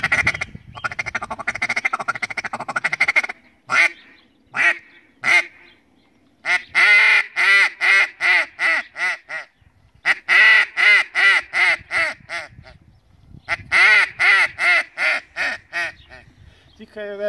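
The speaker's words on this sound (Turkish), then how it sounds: "Pek çok ördek çağrısını yaparken" A duck call blown in quick bursts, a rapid run of sharp quacking notes with short gaps, then several more series of loud, close quacks.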